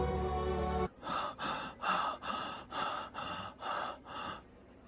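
Heavy, rhythmic panting of a man running in a dramatized scene, eight strong gasping breaths in a steady cadence, close and loud with nothing else over them after a brief tonal lead-in.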